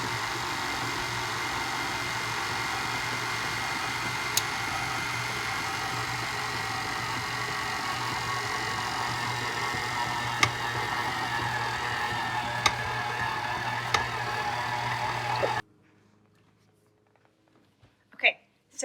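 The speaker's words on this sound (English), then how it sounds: "Slowly, turn the KitchenAid on slow." KitchenAid stand mixer running on slow speed, mixing chocolate chip cookie dough, a low steady motor hum with soft churning and a few faint clicks, close by, cutting off near the end.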